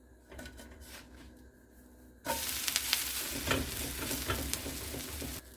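A dosa sizzles loudly on a hot pan after it is flipped, following a quieter stretch of faint scraping and handling.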